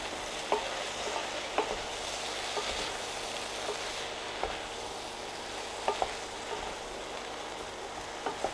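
Onions and aubergines sizzling in oil in a pan while being stirred, a soft steady frying hiss broken by light scraping clicks of the spoon against the pan.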